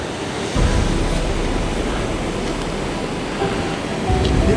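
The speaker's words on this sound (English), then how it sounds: "The ocean is incredibly calm today" Calm ocean waves at the southernmost coast of Tasmania make a steady broadband wash with low rumbling swells, loud and continuous, and no one talks over it.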